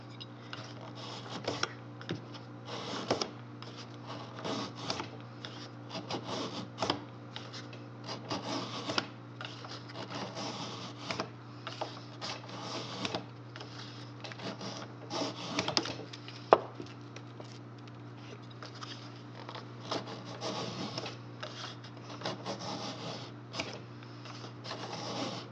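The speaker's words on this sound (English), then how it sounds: "Now we're going to cut the flat side of the same rim." Repeated scraping and shaving strokes of a knife carving the flat side of a wooden basket rim, close, dry and irregular, over a low steady hum with no talking.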